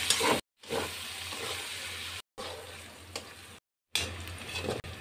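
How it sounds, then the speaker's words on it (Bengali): Sliced onions fry with salt in hot oil to make crisp red beresta, giving a close, steady sizzle and hiss with occasional stirring. Short dead-silent gaps break it into several chunks. "লবণ দিয়ে আমি বেরেস্তাগুলো লাল লাল করে ভেজে নেব"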